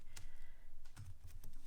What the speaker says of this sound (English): I do like to give them a good little shuffle